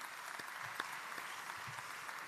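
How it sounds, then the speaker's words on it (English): Steady applause from a graduation ceremony audience, a continuous wash of clapping lasting a couple of seconds, moderately distant and even in loudness. "Shall we give them one more round of applause in encouragement?"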